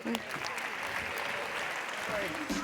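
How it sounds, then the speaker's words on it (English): Audience members at a tech pitch competition applaud the competitors with a steady, even wash of clapping that holds at a moderate level throughout, with faint voices underneath. "But again, hand clap for you all."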